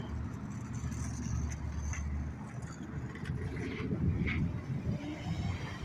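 A car heard from outside on a residential street, a steady engine and tyre rumble that holds fairly even for several seconds, moderately close, with no talk over it.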